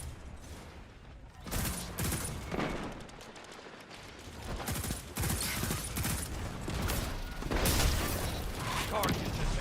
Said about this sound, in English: Deploying Scorpius turrets.